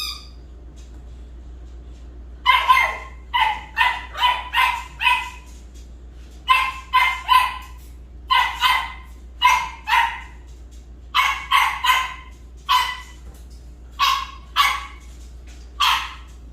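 A dog barks repeatedly at feeding time in quick bursts, sharp and fairly close, in irregular clusters over a low steady hum.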